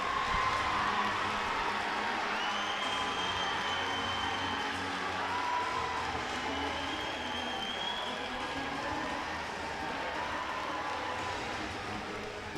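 Basketball arena crowd at a high school boys game, Oak Ridge vs Clinton, a sustained roar of cheering and applause with whoops, with a voice talking over it throughout.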